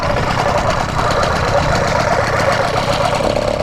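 A motorized bicycle engine runs with the choke on, a steady, loud, buzzing putter that stays close and continuous throughout without any talk over it.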